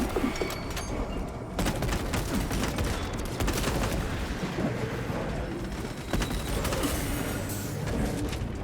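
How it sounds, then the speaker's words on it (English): Sustained gunfire in the action game Warhammer 40k: Space Marine 2, dense continuous shooting with mechanical clanks and rumbling impacts throughout. "I can shoot for the next 30 minutes or so."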